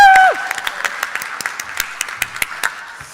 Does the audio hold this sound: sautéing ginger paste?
no